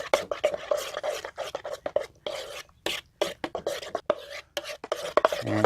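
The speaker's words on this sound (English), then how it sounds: "Mix a little salsa in with the nacho cheese." Salsa stirred into nacho cheese in an RV kitchen, giving close, irregular scraping and tapping of a utensil against a bowl in short strokes, with no talk.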